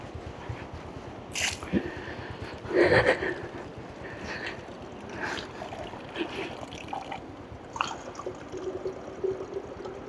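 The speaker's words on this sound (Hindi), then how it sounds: "पानी यहाँ से फ्रेश चश्मे का पानी जो है वो हम भरते हैं।" Fresh spring water from a mountain source on the Swat trail being poured into a bottle, soft trickling and gurgling with occasional splashes and clunks, fairly faint against outdoor background.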